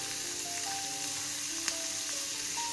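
Yellow pumpkin with cashews sautéing in a pan for a chapati gravy, giving a steady, close sizzle throughout with one faint stir or tap midway and no talking.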